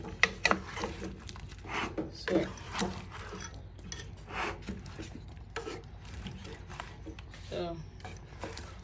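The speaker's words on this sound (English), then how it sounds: "just mix everything together, and that is how to make your yam porridge" Yam porridge with pieces of meat stirred in a cooking pot: repeated close scraping and rubbing strokes in an uneven rhythm, with occasional sharper knocks against the pot over a steady low background hum.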